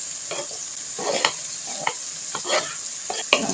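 Eggplant and Scotch bonnet stir-fry in a pan, a gentle steady sizzle punctuated by repeated scraping stir strokes and occasional utensil taps, close and moderately loud, with no voices.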